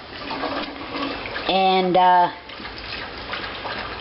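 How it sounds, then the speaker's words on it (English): Fresh cold water runs into a pot at close range as a steady hissing gush. A voice speaks briefly over the middle of the pour. "We got some fresh cold water, and we're going to bring it to a boil again"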